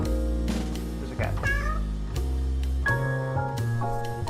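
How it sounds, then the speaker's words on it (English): Cartoon cats in the clicker game 100 Capitalist Cats give a few short, bright meows when clicked, rising and falling over a steady bed of game music. "There's a cat."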